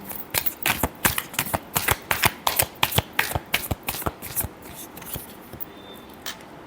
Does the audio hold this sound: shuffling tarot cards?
yes